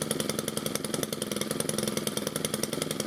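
A Stihl FS91R string trimmer, fitted with a new coil, idles steadily up close, its small engine making a dense, continuous buzzing rattle throughout with no talking.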